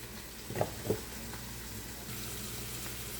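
A splash of water hits a hot pan of sloppy joe meat, two quick wet bursts followed by a soft, steady sizzle close by.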